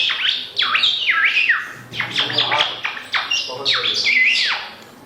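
A boy imitates a bird with his voice, producing a string of shrill, sliding squawks and chirps, loud and close, in quick repeated phrases with short gaps.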